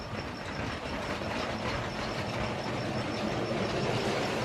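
Two LEGO Powered Up train motors haul a long LEGO train along plastic track, a steady close rumbling whir with faint rhythmic clatter running throughout, no voices.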